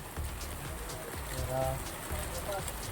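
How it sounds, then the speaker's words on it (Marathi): Heavy rain patters and drums densely on a nearby surface while a man sheltering under a pump house's eaves talks faintly underneath. "जोरात पाऊस पडत"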